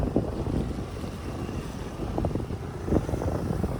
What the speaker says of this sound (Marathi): कारण की वारा भरपूर आहे आज